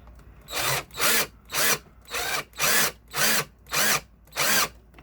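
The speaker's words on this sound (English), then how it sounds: "I took the drill bit out and put that screw in" A power drill whirs in eight short, evenly spaced bursts, each driving a screw into wood, close and loud with no talking.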